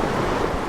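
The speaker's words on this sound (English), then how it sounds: "The water so ferocious, taking anything in its path." Ferocious floodwater rushing through Flagstaff, Arizona, a loud continuous roar of churning water with no voices.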